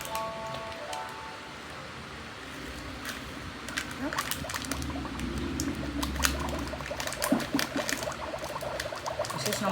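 Sound dust is poured into a Magic Mixies Magical Misting Cauldron toy, a gritty rattling trickle with clicking mechanical ticks that grows busier partway through, close by, with a faint voice in the background.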